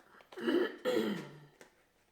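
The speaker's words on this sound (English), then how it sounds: "Having to clear my throat, I apologize." A person clears their throat twice during a tarot reading, close up, each a rough drawn-out rasp, followed by a softer short one.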